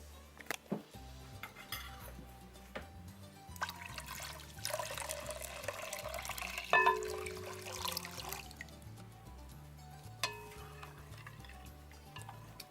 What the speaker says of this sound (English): we can go ahead and add our distilled water